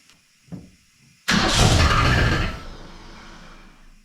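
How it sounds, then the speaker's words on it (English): A 1967 Ford Fairlane Ranchero running on old gas gives a brief cranking whir, then catches and fires into a loud, rough idle that settles slightly lower, close by with no talking. "will it actually start and run and even fire off this who knows how old gas?"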